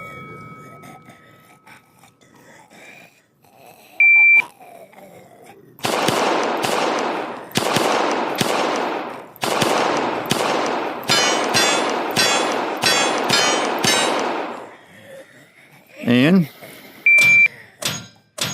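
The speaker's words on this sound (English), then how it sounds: "shoot all paper targets 2 times to the body and only 1 time to the head in this order. So 2 to the body, 1 to the head. All steel targets must fall." Rapid gunfire on a virtual shooting range course with paper and steel targets: bursts of sharp shots in quick pairs and triples, loud and close, running for about ten seconds with short pauses between strings.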